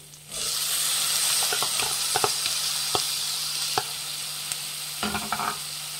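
Onions and green beans fry in a pan for an Ugadi festival dish, giving a steady close sizzle broken by sharp clicks of a spoon stirring, with no talking.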